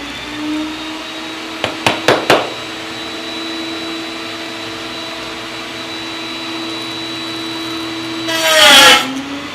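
A wood router cuts a joint with a jig, a steady machine whine droning throughout, three sharp knocks near the start and a louder rising burst of cutting noise near the end.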